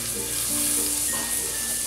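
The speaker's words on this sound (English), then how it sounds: "we're just going to add the ginger paste and let that cook for about half a minute on low heat" Ginger paste sizzling in butter in a pan over low heat, a steady close crackle and hiss with faint stirring, no talking.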